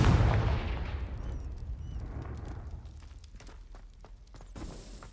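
Confringo blasting spell explosion in Hogwarts Legacy, a booming blast up front whose rumble decays over several seconds, followed by scattered crackles and faint debris clicks.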